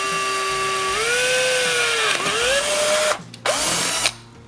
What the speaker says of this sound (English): attach it to the drill and go drill through the markings